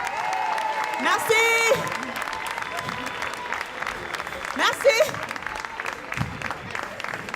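Audience applause after a comedy performance, a lively spread of clapping beneath a performer who speaks briefly over it, with a couple of louder vocal bursts midway.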